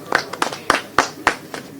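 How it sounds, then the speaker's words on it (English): A small group clapping for themselves, a handful of sharp, scattered claps at an uneven pace, fairly close and modest in volume. "So we should clap for ourselves, clap for yourselves."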